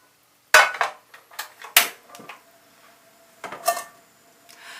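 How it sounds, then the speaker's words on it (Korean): A frying pan is set out on a kitchen counter for cooking sirloin steak: several sharp metallic clanks and knocks, a few louder hits among lighter clatter, with quiet gaps between them. "이제 후라이팬 사용해 볼게요."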